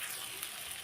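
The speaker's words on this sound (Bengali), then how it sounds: "একটু ভালো করে ভেজে নেব।" Cauliflower pieces frying in a little oil in a pan for a cauliflower curry, a soft, steady sizzle heard close and alone for under a second.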